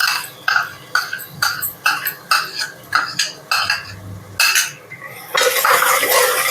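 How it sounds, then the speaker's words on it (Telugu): A metal spoon knocks and scrapes rhythmically against a pot as mint-coriander paste is mixed into a mushroom biryani base, with roughly a dozen close, sharp clinks and a brief noisier stretch at the end. "బాగా మిక్స్ చేసుకోవాలి"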